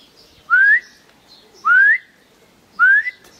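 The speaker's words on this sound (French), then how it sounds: "le sifflement devant le gendarme" Three short rising whistles, evenly spaced and clear, sounding alone against a quiet background.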